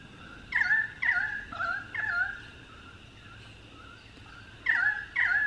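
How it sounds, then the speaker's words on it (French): Odd-sounding birds calling outside a window in autumn, giving loud, repeated harsh squawking calls in short bursts with a pause in the middle, close by and clear over quiet background. "Vous entendez tous les oiseaux bizarres"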